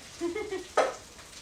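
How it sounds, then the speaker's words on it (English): Rice for caramelized Brussels sprout and bacon fried rice crackles in a very hot pan, a brief burst of sizzle as it is stirred, close and fairly loud. "Does everyone hear that, that sizzle?"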